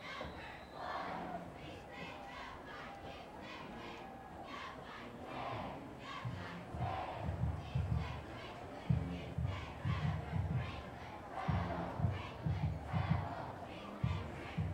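A crowd at a Franklin High School football game against Dickson County shouts and cheers, a distant, rowdy roar rising and falling in rhythmic chant-like bursts through the second half of the stretch.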